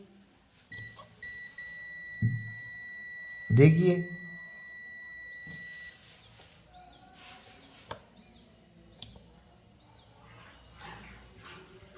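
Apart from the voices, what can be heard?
multimeter buzzer beeping while checking a diode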